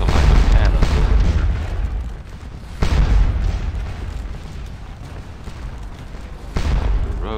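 Cannon fire booms across a Battle of Waterloo video game battlefield, three heavy low blasts spaced a few seconds apart with rumbling decay between them, with no talking.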